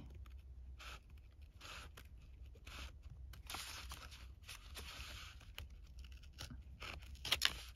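Scissors cut through a vintage paper envelope: faint, close snips and scraping rasps of blades on paper, with small crinkles, in a quiet room.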